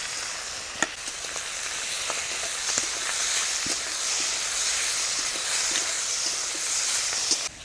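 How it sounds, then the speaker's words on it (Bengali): Live prawns frying in hot mustard oil in a pan, a steady, close sizzling hiss that runs throughout with scattered sharp pops and crackles, no voices. "ওই তেলে এই চিংড়ি মাছগুলো ভেজে নেব।"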